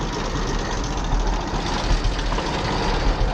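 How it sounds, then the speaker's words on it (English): An old tractor engine idling at very low RPM while haying, a steady, loud, rough rumble with an uneven low thumping throughout and no voices. "Uh-oh, she might die. I think it starts loading up on gas a little bit at that slow RPM."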